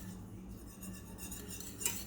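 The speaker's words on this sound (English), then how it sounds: "Whisk out the lumps." Whisk scraping and clinking against a pan while flour is beaten into a sauce to work out the lumps, a quiet steady metallic stirring with one brighter tap near the end.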